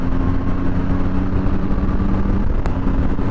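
A Triumph Tiger 1200 or BMW R1250GS adventure motorcycle engine hums at steady cruising speed beneath constant wind rush, with one brief click near the end.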